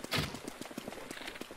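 Rhythmic clip-clop of horse hooves in The Legend of Zelda: Breath of the Wild, a quick steady trot heard at moderate distance with a brief louder burst at the start.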